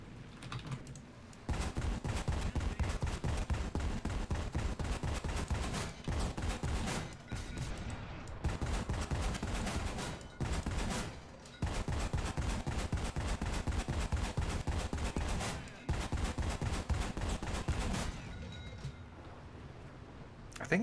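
Aircraft cannons fire in War Thunder: long, rapid bursts of loud, dense shots run for several seconds each, separated by short pauses, with a quieter stretch near the end.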